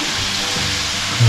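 Rice balls shaped from leftover cooked rice fry in oil over low heat, giving a steady, even sizzle with soft broadband crackle. A brief louder burst comes near the end.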